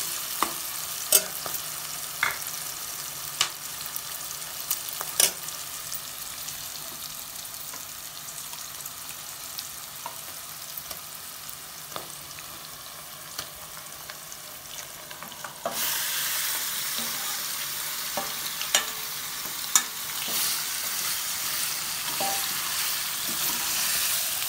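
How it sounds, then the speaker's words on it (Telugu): Marinated mutton pieces fry in a pan for Hyderabadi mutton korma, giving a steady close sizzle with frequent utensil scrapes and taps from stirring; the sizzle grows louder partway through and no voices are heard. "మనం మ్యారినేట్ చేసి పెట్టుకున్న మటన్ ముక్కలు కూడా దీంట్లో వేయాలి"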